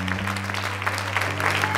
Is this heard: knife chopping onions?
no